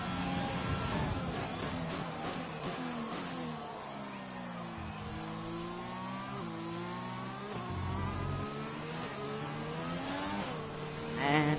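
A Formula One car in F1 2020 at the Chinese circuit howls continuously under throttle, its engine pitch sweeping up and down through gear changes as the wheels spin, loud and close with no talk.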